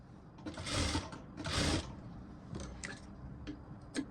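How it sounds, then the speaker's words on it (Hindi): A sewing machine stitches a belted princess-cut blouse in short runs. Two longer bursts of rapid needle chatter are followed by quicker, clipped stops and starts, fairly close and with no voices. "तो यहाँ से सिलाई स्टार्ट करें।"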